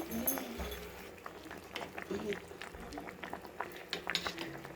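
Mackerel fish curry with mango bubbles at a steady boil in a pot, giving off continuous close, soft bubbling and popping with occasional faint clinks.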